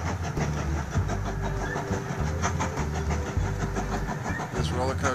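A train rolls along the tracks in the railway-building game Mashinky, a steady low engine rumble with rhythmic wheel clatter running throughout while a person talks over it.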